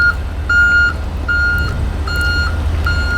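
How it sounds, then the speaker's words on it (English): A truck backing up sounds a steady run of loud reversing beeps, evenly spaced, over a low engine rumble with no talking. "there's a truck backing up"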